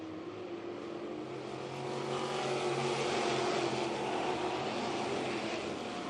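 GM Crate 602 sprint cars come back to full throttle on a racetrack: a broad, continuous engine roar that swells louder about two seconds in and holds steady.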